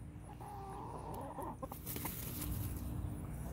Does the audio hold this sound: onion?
no